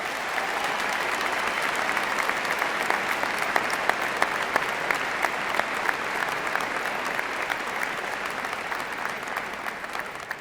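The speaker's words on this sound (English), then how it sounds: "give a round of applause to these two great staff members" A high school graduation audience gives two retiring staff members a long round of applause, with dense, even clapping from a large crowd that carries on steadily, some individual claps standing out near the front.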